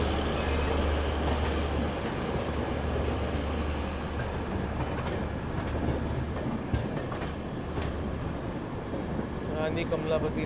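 Mangala Lakshadweep Express rolling along rails on its run from Hazrat Nizamuddin toward Manmad, a steady loud rumble of wheels and carriage noise throughout, with faint voices in the background.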